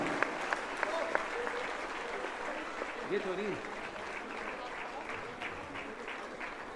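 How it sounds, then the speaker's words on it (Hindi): A gathered audience at a Jain religious discourse claps steadily and fairly faintly across the whole stretch, a continuous wash of applause with voices murmuring underneath. "जोरदार तालियां बजाएं"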